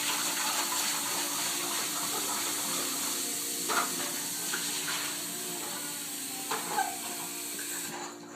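Steady stream of water rinsing beer brewing equipment, likely a fermenting bucket, during home brewing of Canadian Draught; continuous close running and splashing with a few small clunks, no talk.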